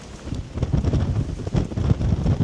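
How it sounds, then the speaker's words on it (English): Strong wind buffets the microphone on an open fell on Sheffield Pike in the Lake District, a loud continuous low roar with gusty surges and no voices. "It's very breezy."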